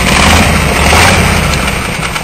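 A 1965 Chevrolet long-bed truck with a three-speed column shift idles through its exhaust: a short, loud, steady rumble heard close up.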